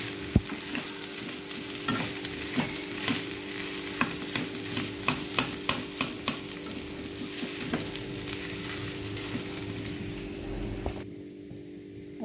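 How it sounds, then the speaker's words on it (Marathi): Potato filling with salt stirred and frying in a pan for patties, a steady close sizzle with repeated scraping strokes of the spoon, ending in quieter hum. "आता हे छान हलवून घ्यायचं."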